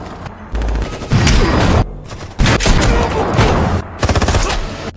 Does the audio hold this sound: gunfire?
yes